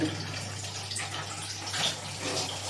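Water runs from a household tap in a steady, broadband rush that swells slightly, close by and fairly loud, heard alone without talk.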